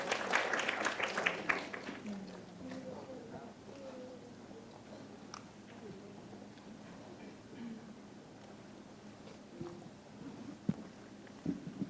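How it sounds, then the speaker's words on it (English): An audience at the AUN-TEPL academic symposium applauds the first presenter, from Mahidol University in Thailand. A dense burst of clapping fills the first two seconds, then fades quickly into a quieter room with faint murmuring. "Please welcome him with a big round of applause."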